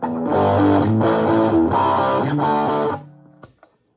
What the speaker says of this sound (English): It's a much tighter type distortion, a lot more focused than the Dover drive.